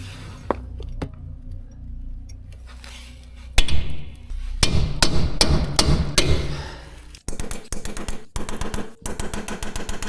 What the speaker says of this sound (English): it must be hammered here in the edge between ball joint and knuckle until both parts start to separate from each other